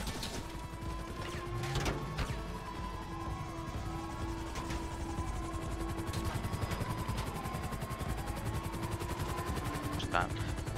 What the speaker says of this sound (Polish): Dobrze, i odlatujemy helikopterem.